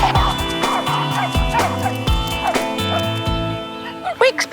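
A rescue dog at a veterinary clinic whimpers and gives repeated high yips in uneven bursts, close to the microphone, while people talk nearby.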